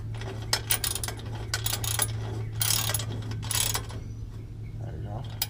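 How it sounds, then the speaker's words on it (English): A hand ratchet with socket tightening bolts while an Invidia N1 exhaust is fitted to a Subaru BRZ, quick clicking pawl bursts in short runs, close and distinct, over a steady low hum. "get your favorite box wrench, socket, deep socket preferable depending, and your ratchet, tighten away"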